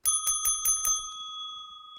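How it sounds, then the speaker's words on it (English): A bicycle bell trills in five quick, bright rings, then a single clear tone lingers and fades alone with no talk. "And then Mrs. Hagenmuller rang the bell."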